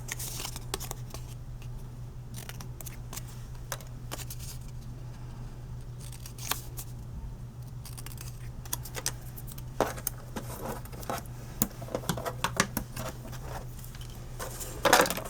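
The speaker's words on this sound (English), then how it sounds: "We're going to cut off these corners." Scissors snip off corners of paper while a tea holder gift wallet is crafted, giving faint, scattered cutting clicks and rustles over a steady low hum in a quiet room.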